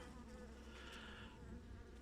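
Honeybees hum in a low, steady drone close by at an apiary hive being opened, a continuous buzzing swarm with a slightly brighter rise in the middle.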